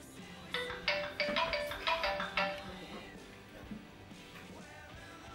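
Telephone ringing in a Turkish TV comedy sketch, several regular ringtone bursts in a row at moderate level, then fading into a quieter background.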